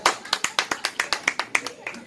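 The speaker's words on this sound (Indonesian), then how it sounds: "Yuk tepuk tangan untuk kita semua yuk" Participants in a public speaking class clap in a brief, rhythmic run of about a dozen even, close claps with a faint voice underneath.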